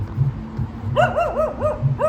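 A dog visiting a relative's home gives a quick run of yipping, whining barks, several short close calls in rapid succession over a low background murmur.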